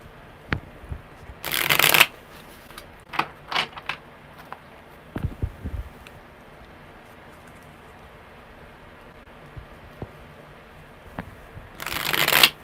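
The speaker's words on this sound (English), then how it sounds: "one more good shuffle" Tarot cards being shuffled in short papery bursts, with a couple of longer riffling shuffles near the start and end and quiet handling noises between.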